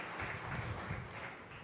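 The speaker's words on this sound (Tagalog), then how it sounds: "pumalakpak ng malakas sa ating mahal na Panginoon" A church congregation claps loudly during a sermon, a steady, dense patter of hands filling the room at moderate volume.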